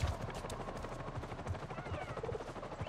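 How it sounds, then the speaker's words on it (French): A helicopter in the video game Avatar: Frontiers of Pandora gives a steady rhythmic rotor chop at moderate distance, blended with game ambience. "J'entends un hélicoptère."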